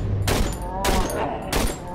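Rifle gunfire in the Cry of Fear video game: three loud bursts of shots roughly half a second apart, each crackling and booming, with low rumble and game ambience between them.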